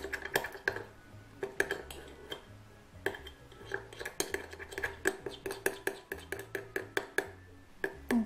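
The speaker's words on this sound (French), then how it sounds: "Maintenant, je mélange avec la lessive." Glue slime is stirred with laundry detergent in a container, giving a steady run of light clicks, taps and scraping knocks from the utensil, close and fairly quiet, with no talking.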